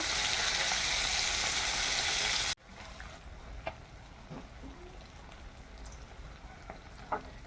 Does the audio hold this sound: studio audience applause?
no